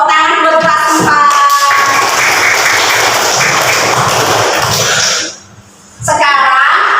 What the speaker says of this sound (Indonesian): tepuk tangan buat kelas 4